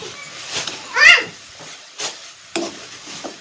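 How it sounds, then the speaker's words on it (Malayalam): A spoon stirs food in a pan after salt goes in for unnakkaya, a Thalassery sweet snack, making soft, intermittent scraping strokes up close over a faint sizzle. "ഒരല്പം ഉപ്പ് ആഡ് ചെയ്ത് കൊടുക്കാം. എന്നിട്ടൊന്ന് നന്നായി ഇളക്കി കൊടുക്കാം"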